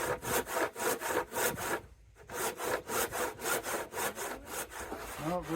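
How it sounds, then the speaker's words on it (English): A hand saw rasps through wood along a curved cut in steady back-and-forth strokes, loud and close, with a short pause partway through before the rhythmic sawing resumes. "the saw does all the work. I'm not pushing it or anything, I'm just letting it ride in that curve"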